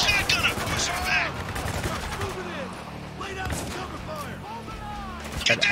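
Shotgun blasts and surrounding gunfire in the combat shooter Spec Ops: The Line, a dense, continuous barrage of sharp reports with several louder bursts, mixed with voices talking.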